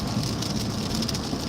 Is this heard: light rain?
yes